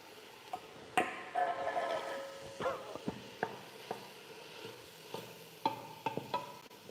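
Vegan lamb and mushrooms go into an oiled pot with onions for a Greek Easter soup: a soft sizzle, then scattered taps and clicks of a utensil stirring, close but fairly quiet, with no voices.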